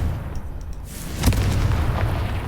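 A Confringo spell blast in Hogwarts Legacy bursts with a sharp crack and then a sustained, loud booming rumble that continues to the end, with no talking over it.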